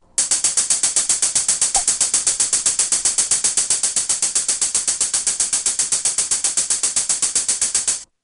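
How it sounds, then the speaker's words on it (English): A hi-hat sample ticks in a fast, perfectly even stream of 16th notes at 115 BPM from a step sequencer, bright, crisp and loud, running without pause for about eight seconds before stopping. "I've loaded a hi-hat sample and I've set the tempo at 115 beats per minute, and I've just drawn out 16th notes all the way across."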